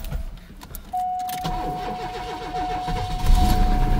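A 1984 Mercury Marquis cranks after a jump start, its starter grinding rhythmically over a steady chime before the engine catches and rises to a louder idle, close by.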